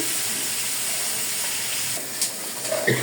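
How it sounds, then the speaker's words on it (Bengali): Fish coated in turmeric and chili sizzles steadily in hot oil in a home kitchen pan, a continuous close frying hiss with a few sharper pops near the end and no talk. "মাছটা এখানে আমি ভেজে নিই"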